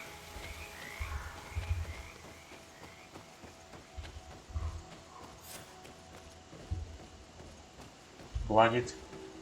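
A frog croaking in a swamp in the video game GreedFall, a few low intermittent croaks over quiet ambience, ending with a louder rising sound near the close.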